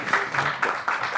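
Audience applause at a theatre-day evening event in Gomel, a steady wash of clapping from a crowd with rhythmic swells, fairly near and loud, no voices over it.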